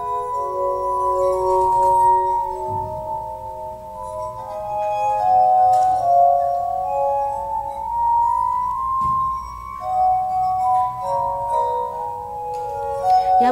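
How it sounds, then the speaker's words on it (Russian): A glass harmonica, played by touching the wet rims of rotating glass bowls, sings a slow, sustained, gliding melody of pure ringing tones alone, loud and close. "прикосновение к влажному краю издавало мелодичный нежный звук"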